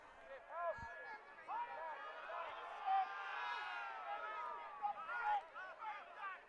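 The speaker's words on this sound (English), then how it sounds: "Crowd getting a bit restless." Restless football crowd at a Central League match between Napier City Rovers and Wellington Olympic, a faint, distant murmur and scattered calls beneath a commentator's steady talk.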